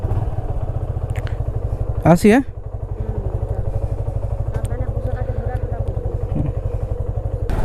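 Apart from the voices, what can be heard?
motorcycle setting off on a journey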